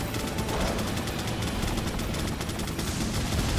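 Gunfire from Resident Evil 4 runs as a dense, continuous burst of loud, close shots with no break, aimed at enemy heads.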